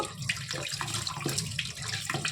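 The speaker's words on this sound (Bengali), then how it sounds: "ভালো করে ধুয়ে নেবো মাছগুলো।" Tap water runs into a sink while tangra fish are washed for a curry, a steady close splashing flow with small shifts as the fish are handled.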